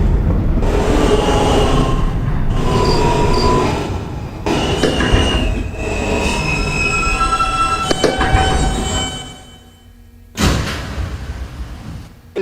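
An R160 N local train on the New York City subway runs between stations. The loud rumble is broken by sharp brief gaps, and high tonal wheel squeals rise and fall before the car slows into near quiet, then a short surge.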